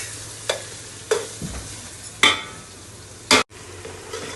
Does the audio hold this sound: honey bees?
no